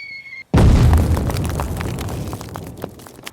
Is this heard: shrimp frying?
no